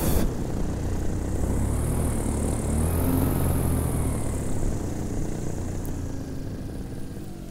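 A paramotor engine drones steadily close by, its propeller whine rising slightly in pitch midway and then easing off toward the end, with wind noise underneath.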